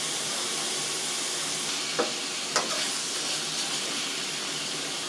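Ginger goes into a pan already holding pork and Chinese sausage for steamed bao filling. A constant, bright sizzle and hiss runs throughout, broken by a couple of brief stirring clinks, with no voices.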